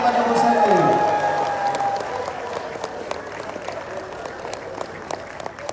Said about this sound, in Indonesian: kita beri tepuk tangan kepada Bu Selly